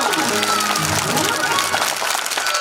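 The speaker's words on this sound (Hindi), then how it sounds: "तालियां बज गई, तालियां।" A crowd claps steadily throughout a Hindu religious discourse gathering, with music and voices running underneath the sustained applause.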